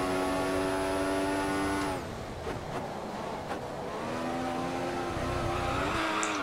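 Race car engine in F1 2014 with a 2015 mod at Bahrain qualifying, a high harmonic whine that drops off the throttle, then climbs again as it reaccelerates, loud and close with no talk.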